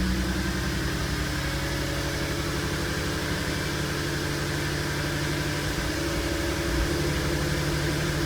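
A VW Golf R32 Mk5 with its VR6 engine runs steadily through a throttle test with the brake and accelerator held down, giving a constant close idle hum with low rumble and no rise in revs.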